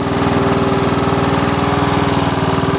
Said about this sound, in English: Fires right up, one pull, no problem.